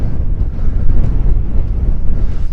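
Strong desert wind roars against the microphone in a heavy, continuous low rumble, loud and close, with no voices over it, in Wadi Rum, Jordan.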